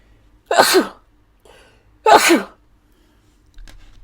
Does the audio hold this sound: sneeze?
yes